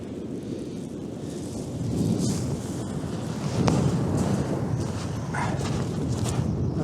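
Strong wind buffeting a microphone at Glyne Gap beach in Bexhill while sea fishing with mackerel and squid bait, a steady broadband roar with gusts swelling midway and no talk.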